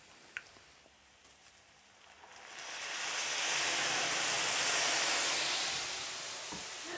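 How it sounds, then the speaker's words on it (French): Red wine (La Villageoise) poured in to deglaze a hot pan of honey and balsamic vinegar sets off a loud, steamy hiss that swells after a quiet start, holds strong, then eases slightly, with no talking. "Et là, on va déglacer tout ça avec du vin rouge La Villageoise en cuisine."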